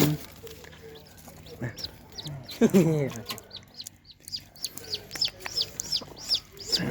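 A jungle fowl hen clucks and squawks nearby in short agitated bursts, with softer chick chirps and peeps scattered around and a brief voice in the background.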